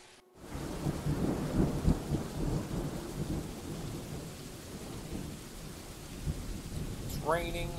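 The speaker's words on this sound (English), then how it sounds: "It's raining." Rain and rolling thunder from the video game Dwarf Fortress, a steady low rumble with a soft rain wash that fades slightly over several seconds, ending with a brief tonal chime.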